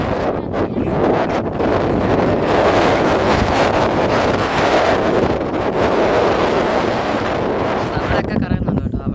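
Strong wind roars continuously across the microphone, a heavy buffeting rush with gusty surges that fills the whole scene, easing slightly near the end.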